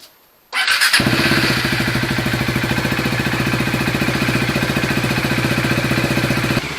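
A Bajaj Dominar 400 motorcycle engine starts up and settles into a loud, steady, rapid idle that runs close by without pause.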